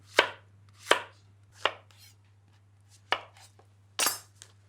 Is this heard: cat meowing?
no